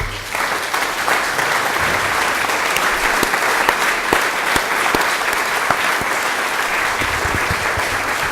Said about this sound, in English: stand up and we can give them a round of applause